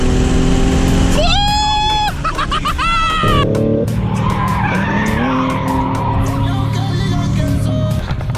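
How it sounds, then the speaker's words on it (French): A drift-prepared BMW skids with loud, sustained tire squeals that rise and fall in pitch over its engine roar, close by, with brief voices in the background. "Donc la petite BM qui est préparée drift, il s'amuse un peu, regardez."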